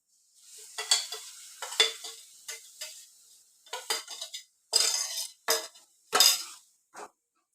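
Spice powder paste stirred into oil with fried garlic for a kadala curry: bursts of sizzling and spoon scraping against the pan come in irregular strokes with quiet gaps between them.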